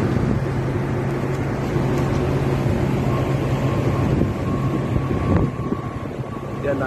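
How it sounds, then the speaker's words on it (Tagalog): A constant heavy roar of wind and rough waves at sea in bad weather on the way to Den Helder port, Netherlands, loud and unbroken, easing slightly near the end. "Lakas ng alon, sa lubong na namin yung bad weather."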